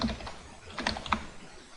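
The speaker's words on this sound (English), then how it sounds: "typed in stuff here, just random stuff, typed in a wrong email address" Soft, close computer keyboard typing, a few quick irregular key clicks clustered together in a quiet room.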